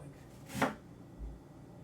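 A single crisp knife chop through an onion, brief and fairly close, followed by a quiet kitchen with faint background hum.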